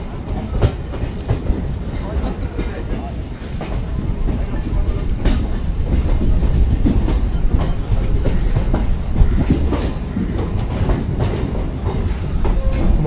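A local train pulls into Kalinarayanpur junction on the Ranaghat–Krishnanagar line via Shantipur, wheels giving a steady, loud clickety-clack and rail rumble heard from aboard throughout, with no talk.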